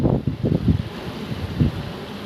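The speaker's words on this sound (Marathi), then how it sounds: "वारं भरपूर आहे" Wind buffets the microphone in low, uneven gusts on a walk to the reverse waterfall near Patan, with a steady rushing hiss underneath and no voices.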